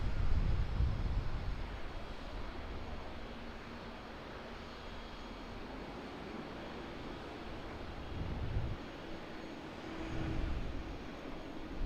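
A Boeing 777-200 airliner arriving from San Francisco lands at Auckland Airport, heard as a broad, steady roar of engine and airflow noise that swells slightly near the start and again toward the end, with no talk.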